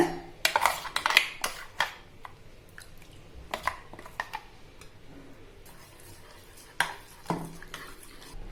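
A spoon mixes ground spice paste into tamarind water in a metal pot, giving scattered close clinks and knocks against the pot, denser early on, with soft scraping and stirring in between.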